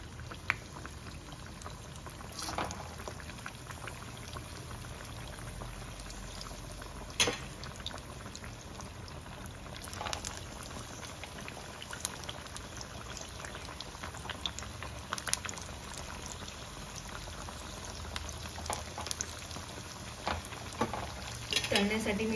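Sabudana vada fry in hot oil in an iron wok, giving a steady bubbling hiss with scattered sharp pops and crackles throughout.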